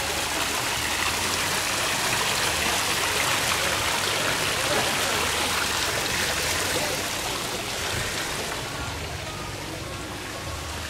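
Flowing water at Wat Doi Wao temple in Chiang Rai, Thailand, a steady, fairly loud rushing hiss that continues throughout and eases slightly near the end.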